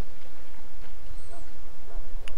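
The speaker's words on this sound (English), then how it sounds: "This beast is in the king's service, just like you and I. This is a Mabari, smart breed and strong." A Mabari war dog from the video game Dragon Age: Origins gives a brief whimper, heard against a steady wash of low game ambience with a thin high whine passing midway.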